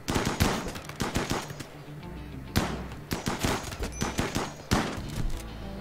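RimWorld combat gunfire: repeated bursts of rapid shots in short volleys, moderately loud, spaced across the whole stretch with a few heavier single reports and no talking.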